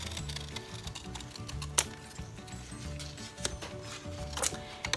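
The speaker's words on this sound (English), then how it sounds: "I'm going to be just using my scissors" Scissors cut a round paper sun shape with a few sharp snips spread through the clip, over a steady low background bed.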